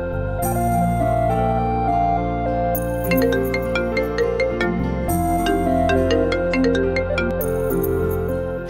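A phone ringtone plays a repeating electronic melody, loud and close, looping continuously with no voices over it.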